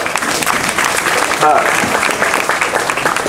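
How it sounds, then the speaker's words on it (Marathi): A crowd claps loudly and steadily throughout at a Buddhist Kathin robe-offering ceremony at Shravasti Buddha Vihar, Dwarkapuri, with a voice speaking over the applause. "जरा जोरदार टाळ्या वाजवा"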